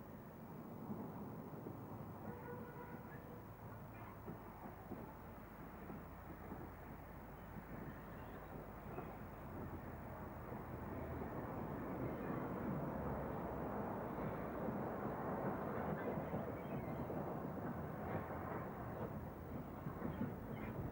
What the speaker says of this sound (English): a train for Swanage pausing at Corfe Castle